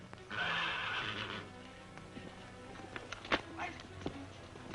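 A horse whinnies loudly and at length near the start of a western film scene, followed by quieter clip-clopping hooves and scattered thuds.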